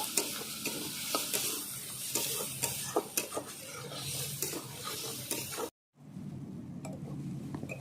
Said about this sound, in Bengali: মশলাটা একসঙ্গে আমি কষিয়ে নেব